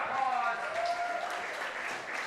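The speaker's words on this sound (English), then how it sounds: "Give a round of applause" Spectators at an SBD Austin powerlifting meet clap and cheer after a deadlift lockout, a short burst of applause heard under excited shouting and commentary.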